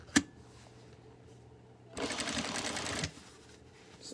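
Sewing machine stitching fabric for a face mask, running in a steady rapid whir for about a second, following a sharp tap near the start, in a quiet room.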